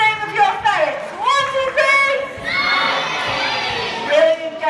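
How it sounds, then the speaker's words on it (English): Crowd of children and adults at a farm ferret race cheering and shouting the ferrets' names, a loud, continuous burst of overlapping voices that swells and holds for several seconds. "Shouting the name of your ferrets."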